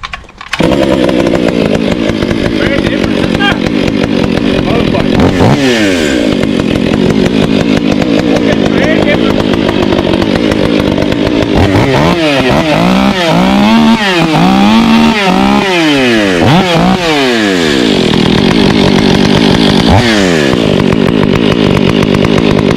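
A Husqvarna 500i chainsaw fitted with a West Coast Saw muffler runs loud and close, holding a raspy, motorbike-like idle and ripping through repeated throttle blips and revs that rise and fall.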